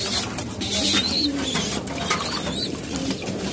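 Pigeons cooing in a loft during feeding and watering, soft repeated coos over a steady background of rustling and faint wing movement, fairly close and continuous throughout.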